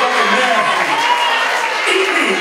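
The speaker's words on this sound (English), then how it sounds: "Just clap one more time" A crowd at a live poetry night claps and cheers in a dense, steady wash of hands and voices that stays loud and continuous throughout, with no single clap standing out.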